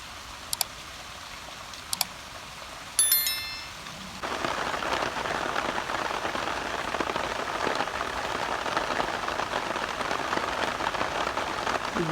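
Unseasonal rain falling steadily in Porbandar, a dense continuous patter on surfaces that swells in after a few sharp knocks and clicks, then holds loud and even to the end, with no talking.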